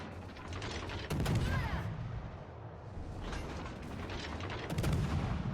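Naval guns boom in heavy, rumbling salvos during a World of Warships Legends battle, two loud bursts rolling over a constant low drone of engine and sea noise.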